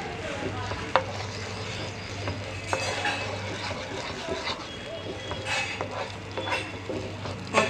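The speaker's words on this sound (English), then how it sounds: "On medium flame, I'm going to mix it until the raw flavor is gone." Spices stirred in a pan over a medium flame, a steady soft sizzle with scattered scraping clicks of a spoon against the pan, plus a low steady hum underneath.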